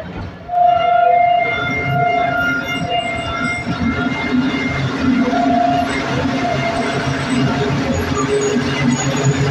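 The Millat Express stands at Khanewal station on the Lahore route, with a continuous station and rail rumble, a faint sustained horn or whistle tone coming and going, and general platform noise throughout.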